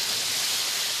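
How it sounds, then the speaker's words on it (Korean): Chicken fries in hot oil with a steady, dense sizzle, a bright continuous hiss close up with no voices. "지글지글 익어가는 소리부터 식욕을 자극하는데요"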